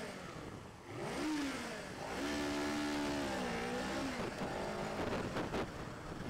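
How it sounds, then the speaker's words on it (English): Motorcycle engine revving on a warm summer day in Kansas City, with repeated throttle blips rising and falling in pitch, fairly close and loud, with no voices over it. "A little rev sesh to get us going today."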